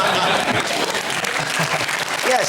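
A studio audience on a TV panel show claps loudly and steadily throughout, a dense burst of applause with a voice faintly heard near the end.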